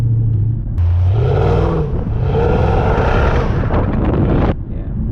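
A 510 bhp Mercedes CLS55 AMG accelerates hard with traction control off, its engine note climbing and droning loudly under heavy wind noise.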